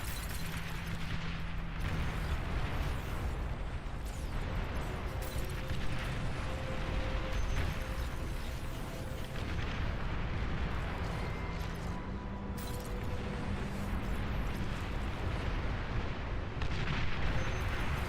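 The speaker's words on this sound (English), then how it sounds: "I just need to get close enough to really launch the rockets over there." Rockets launching and impacting in a large real-time strategy battle in Beyond All Reason, a steady dense rumble of distant blasts and bursts throughout, with faint tonal unit sounds and no talk.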